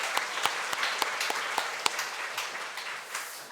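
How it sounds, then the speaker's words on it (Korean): A church congregation claps in welcome during a Sunday service, steady mid-level applause with some individually distinct claps standing out, continuing throughout. "우리 박수 좀 환영해 주시기 바랍니다."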